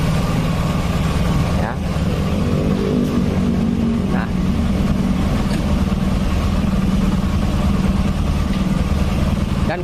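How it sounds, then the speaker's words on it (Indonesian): An air compressor runs in a workshop where a Honda Vario 150 scooter is being serviced, giving a dense, steady mechanical hum throughout while a person talks briefly over it. "dan kebetulan sekali ada mesin kompresor sedang dinyalakan, jadi agak sedikit berisik"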